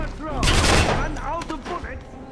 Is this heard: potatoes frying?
no